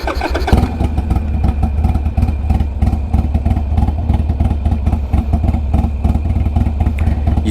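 A Harley-Davidson Sportster Iron 883 with a tuned map and no baffle idles close by, a loud, lumpy, uneven low thump with a steady loping beat throughout.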